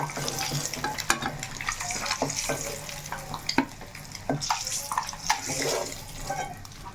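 Eggs frying in a pan, a soft continuous sizzle broken by stirring scrapes and occasional clinks of the utensil against the pan.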